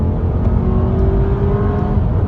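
A 2.5-litre engine in a 2023 Mazda 3 hatchback revs hard at full throttle, a steady, loud, smooth drone heard from inside the car with no talk over it.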